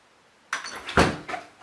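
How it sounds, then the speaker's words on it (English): An apartment door is pushed and shut, picked up by a DSLR camera's built-in microphone: a scraping rustle, then one solid close-range thud, and a final lighter knock. "There we go, get the door shut."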